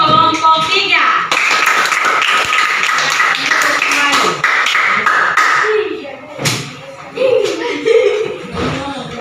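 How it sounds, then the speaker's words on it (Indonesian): A classroom group gives applause for group 3 during a teaching session, a dense run of hand claps and taps lasting several seconds, with chuckles and voices mixed in before it breaks into scattered claps. "kita beri aplaus untuk kelompok 3"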